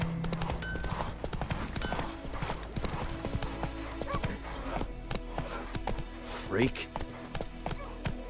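A horse gallops in the video game The Witcher 3, with steady clip-clopping hoofbeats throughout and a brief spoken word over them.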